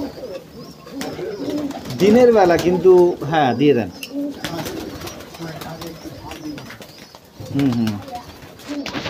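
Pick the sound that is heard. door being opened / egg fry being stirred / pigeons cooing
pigeons cooing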